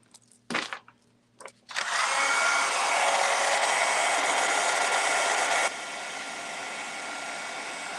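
A heat tool switches on after a couple of short handling clicks and blows a loud, steady whirring roar while melting black embossing powder, then drops to a slightly lower, constant hum for the last few seconds.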